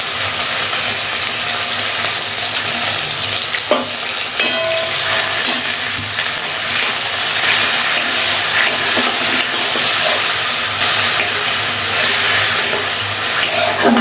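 Chopped onion, green chilli paste, ginger-garlic paste and turmeric with a splash of water frying in a pan, a steady loud close sizzle with occasional stirring scrapes throughout.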